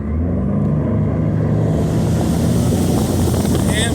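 A Tracker 195 Tournament Edition bass boat with a 150 Mercury Pro XS outboard accelerates on a lake, its engine roar and rushing water building steadily and loudly throughout, with wind buffeting the microphone.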